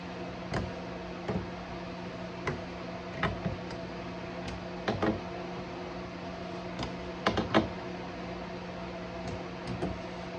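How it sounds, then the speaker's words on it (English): A small wrench tightens guitar tuners into the headstock, making scattered faint metallic ticks and clicks in irregular bursts over a quiet background hum. "A little wrench here to tighten these in."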